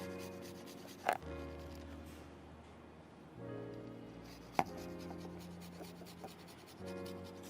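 Soft rasping scrapes of almonds being grated over bowls of kesar phirni, quiet and close, with a couple of sharp knocks against a faint background hum, no voices.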